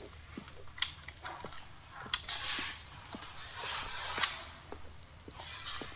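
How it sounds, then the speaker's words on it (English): A repeating electronic beep sounds in The Stanley Parable Ultra Deluxe, a regular high tone pulsing over a busy background with soft clicks and thumps. "What's that beeping?"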